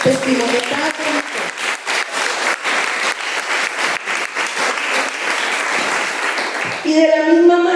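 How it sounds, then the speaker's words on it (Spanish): A church congregation claps together in sustained, loud applause, with a brief voice at the start and a voice speaking over the end. "Démosle un aplauso al Señor por ese testimonio tan bonito."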